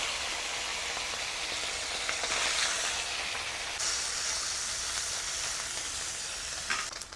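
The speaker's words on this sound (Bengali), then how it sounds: "তেলটা খুব গরম হয়ে গেছে, এবারে তেলের মধ্যে মাছগুলো দিয়ে ঠিক লাল করে মচমচা করে ভেজে নেব।" Fresh river chewa fish frying in very hot mustard oil, a loud, steady close sizzle that runs unbroken throughout, with a few brighter crackling surges.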